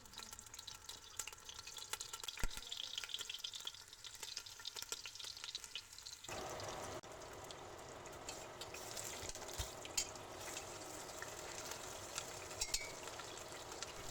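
Onion and garlic frying in a pan after lamb shoulder has been browned, a steady soft sizzle with stirring and scraping, changing in texture midway as the ingredients are moved, with no talk.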